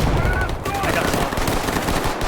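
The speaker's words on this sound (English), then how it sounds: "That's a large volume of fire." Heavy sustained gunfire from a firefight in the video game Stalker Gamma, dense overlapping automatic bursts that stay loud and continuous throughout.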